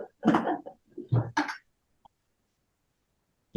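A few harsh coughs in quick bursts near the start, followed by a faint click and then silence.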